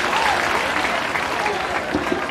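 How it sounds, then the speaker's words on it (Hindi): A large outdoor crowd at the Chief Minister's rally in Biharsharif, Nalanda, gives sustained, dense applause for a bridge dedication, steady and loud throughout, with a voice faintly carrying over the clapping. "जोरदार तालियों से"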